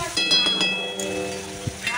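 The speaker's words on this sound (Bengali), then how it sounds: "রসুনটা আগে ভালো করে একটু ভেজে নিলাম" Garlic paste fries in oil in a pan, a soft sizzle with a few clinks of a spoon stirring against the metal.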